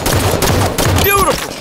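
Halo 5 gunfire: rapid bursts of automatic shots in a steady rhythm, loud and close, followed by a sharp whining, ringing effect near the end.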